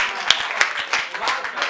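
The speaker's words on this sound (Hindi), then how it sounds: "जोरदार तालियों से रोहित विश्वकर्मा" An audience at a Hindi comic poetry gathering claps to welcome poet Rohit Vishwakarma, giving brief, uneven, fairly loud applause.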